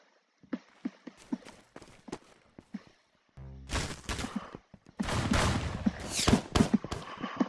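Gunfire in the Roblox video game: a run of light clicking shots, then a sustained burst of dense rapid firing that grows louder and busier near the end, with no talking.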